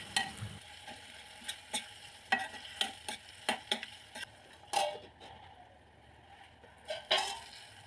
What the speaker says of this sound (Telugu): విరిగిపోయిన పాలల నుంచి తీసిన ఆ ముద్దని మనము ఈ టమాటోలోకి వేసుకొని ఫ్రై చేసుకుందాము.